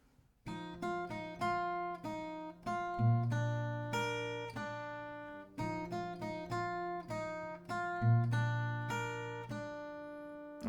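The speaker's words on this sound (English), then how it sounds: "or if you choose to play the melody, it will sound like this." Acoustic guitar picking the melody of a song, clear plucked single notes and short phrases played close and alone, repeating the phrase twice with ringing bass notes underneath.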